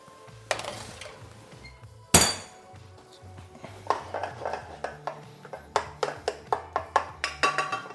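Shrimp laid in a single layer on a metal sheet pan and slid into an oven, with loud metallic clanks and knocks followed by a quick run of rhythmic tapping and clinking over a low hum.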